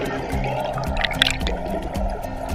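Running water flows around an Estream water-powered turbine generator, a short burst of gurgling, trickling liquid with light splashes over a low, steady wash.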